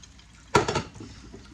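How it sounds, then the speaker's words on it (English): Cooked noodles for chicken pad thai being drained, heard as one short, close splash of water pouring out, then faint dripping. "So there's my noodles draining."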